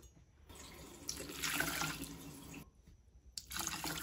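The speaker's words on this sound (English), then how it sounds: "I'm adding 2 cups of water." Water runs into a cooking pot on a home stove for dinner, a steady splashing pour that swells and fades in two bursts, close and alone.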